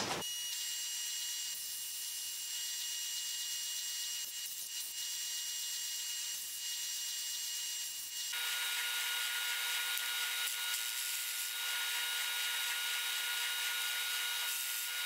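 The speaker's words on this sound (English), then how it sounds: "I'll just do that on the belt sander." A belt sander runs steadily as the nose of a lathe center finder is shaped against it. The even abrasive whir holds throughout, then grows louder and brighter partway through as the workpiece bears harder on the belt.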